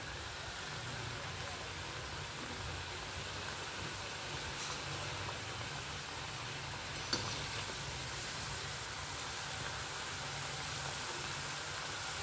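Small pieces of jaggery kapnya dough frying in hot oil over a low gas flame, giving a steady, continuous sizzle of moderate loudness that runs unbroken throughout, with no speech over it.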